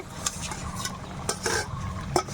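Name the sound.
fried egg added to boiling potato gravy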